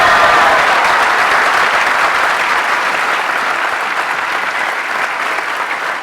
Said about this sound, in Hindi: हमारे लिए तालियां बजाते हैं यार